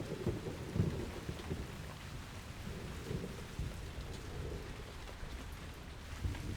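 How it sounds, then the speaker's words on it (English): Rain patters steadily onto forest leaves in a Japanese satoyama woodland while low thunder rumbles underneath, a soft, even downpour with no voices. "Raindrops fall from the leaves and soak the logs below."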